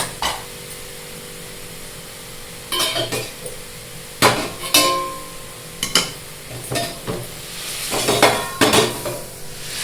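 Metal utensils clatter and scrape against a pan in scattered bursts, with a faint sizzle of frying underneath and no talking.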